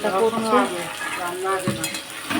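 Meat being stirred and fried in a pan with fried potatoes set aside, a steady close sizzle with scraping stirs throughout, while a faint voice speaks underneath.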